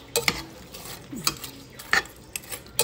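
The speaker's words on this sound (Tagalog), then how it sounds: "Tapos haluin lang natin." Fried green beans, crisp from frying, being stirred in a pan: a handful of scraping, clinking utensil strokes at irregular intervals over a faint sizzle, close and fairly quiet.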